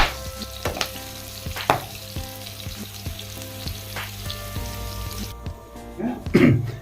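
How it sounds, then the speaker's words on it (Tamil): Pirandai sizzles and crackles in hot oil over a high flame while being stirred, with a steady frying hiss broken by scraping clicks and a louder stir near the end. "ஃப்ளேம் ஹைலியே வச்சுக்கிட்டு வதக்கிக்கோங்க"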